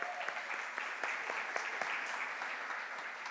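A church congregation applauds in ovation for the Word of the Lord, with a steady, moderately distant patter of many hands and a few louder individual claps popping through.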